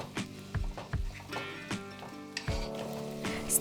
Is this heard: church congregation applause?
no